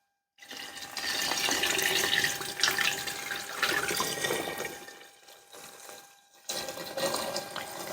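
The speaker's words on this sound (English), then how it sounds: "And then we're just going to fill it up with water." Water pours steadily from a tap into a jar, a bright rushing flow that pauses briefly and then resumes.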